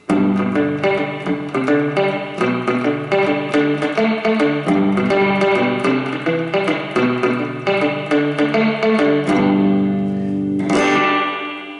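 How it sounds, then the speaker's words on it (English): An electric guitar through a Danelectro Spring King spring reverb pedal plays a run of picked notes drenched in springy, splashy reverb, then ends on a sustained chord with a bright reverberant crash. "It has a real spring and you can really hear that it has some really analog elements."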